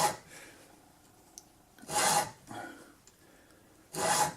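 Filing a worn chainsaw chain: slow, separate rasping strokes close by, two loud scrapes and softer ones between, with quiet gaps.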